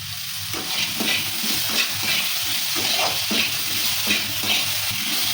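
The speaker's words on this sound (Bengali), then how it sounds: "আলুটা ভালো করে কষিয়ে নিয়েছি" Potatoes with garam masala sauté in a pan, a loud continuous sizzle broken by rhythmic scraping strokes of a spatula stirring them, close and without talk.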